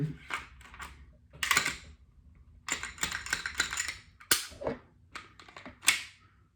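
A Taurus G2C pistol being put back together gives sharp metallic clicks and snaps, loud and close, coming in irregular bursts with quiet gaps between them.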